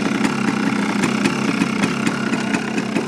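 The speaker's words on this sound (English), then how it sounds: "It's having some idling problems, so I'm going to just fix that really quick." A 2000 Yamaha Blaster 200 ATV engine with a low, poorly set idle runs steadily and a bit roughly, with a continuous uneven rumble and faint rhythmic knocking throughout.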